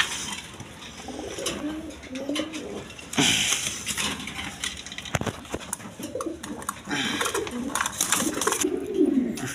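Several male pigeons for sale coo steadily in low, rolling phrases through the stretch, with some rustling and clinking nearby and no speech over them.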